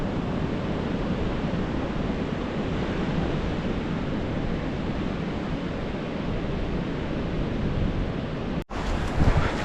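Steady broadband wash of ocean surf rolling onto a New Zealand beach at high tide, loud and continuous with wind rumble, ending in a brief dropout and a few handling bumps near the close.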